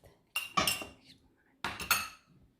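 A whisk or utensil clatters against a bowl while beating coffee bun dough with egg and coffee mixture, two quick pairs of sharp metallic strokes separated by a short pause.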